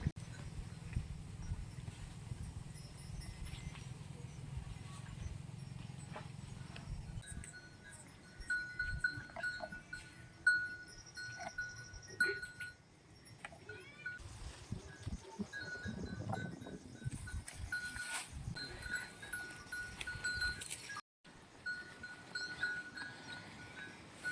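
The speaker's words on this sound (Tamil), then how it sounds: "கண்ணுக்குட்டி ஆடு மாடு எல்லாத்தையும் ஒரே இடத்துலையே கட்டியாச்சு" A calf, goats and cows tied up together in a village yard for the Mattu Pongal festival, with scattered hoof knocks, rattling bells and occasional animal calls close by.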